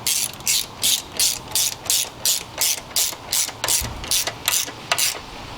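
A ratchet tightens the valve cover bolts on a Honda K series engine, with about a dozen crisp, evenly spaced clicking pulls heard up close and on their own.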